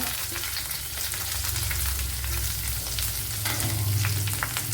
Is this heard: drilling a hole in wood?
no